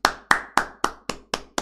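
Seven sharp hand claps in an even, slow rhythm, close and crisp, each with a short decay, with no voices.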